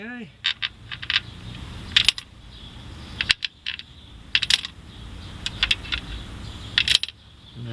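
Small bolts drop into a hole in a 2003 Saturn Vue engine, making several sharp metallic clinks and rattles in irregular bursts, close and fairly loud.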